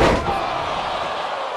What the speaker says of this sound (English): Reverse DDT! End of the road.